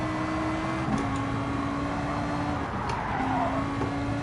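A race car engine droning steadily through a lap of a racing video game, with a sustained tonal whine that shifts pitch as it accelerates and brakes, with a faint skid partway through and no talking.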